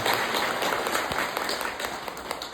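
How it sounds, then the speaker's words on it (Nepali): Loud, sustained audience applause at a crowded gathering, many hands clapping together in a dense, continuous burst that eases off slightly toward the end. "ताली लगाएर"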